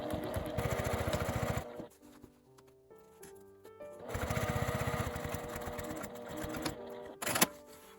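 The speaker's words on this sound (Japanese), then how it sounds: "端ミシンをかけます。" Sewing machine edge-stitching a 12 cm zipper onto a fabric box pouch, running in two loud steady bursts of rapid stitching separated by a quieter pause with light handling noises.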